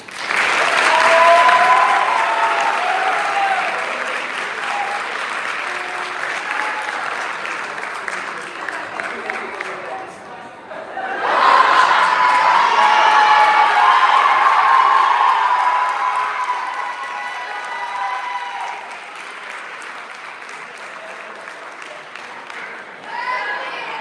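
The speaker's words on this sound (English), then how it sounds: "Let's give them a last round of applause." An audience at a college fraternity and sorority life awards ceremony breaks into loud applause mixed with cheering and whoops, with a brief dip partway through before a second swell of clapping that tapers off near the end.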